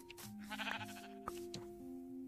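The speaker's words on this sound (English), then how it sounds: "Another sheep." Sheep in the Minecraft video game bleat in short, wavering calls, a couple of distinct bleats close by with brief gaps between them, clear over a quiet background with no talk.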